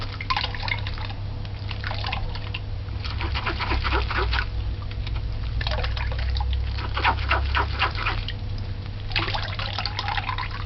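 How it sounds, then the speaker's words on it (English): June plum pulp being stirred and squeezed by hand for juice: continuous wet squelching and sloshing in bursts over a steady low hum, close and moderately loud, with no talking. "When you stir it, it helps squeeze the juice out."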